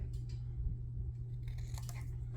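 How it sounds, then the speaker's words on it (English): Scissors trimming cardstock for a handmade card, a few soft snips and rustles close by over a steady low hum. "I'm just going to trim it a little bit on this side here."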